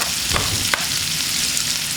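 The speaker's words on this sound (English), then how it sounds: "Just stir fry." Chopped big onion, ginger and garlic are stir-fried for a ground beef with broccoli dish, giving a close, continuous sizzle with a couple of soft stirring scrapes.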